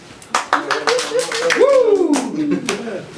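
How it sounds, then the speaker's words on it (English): Small studio audience clapping for a guest actor on a talk show, a handful of distinct sharp claps scattered throughout while a person whoops and talks over them. "You already got a round of applause in the intro."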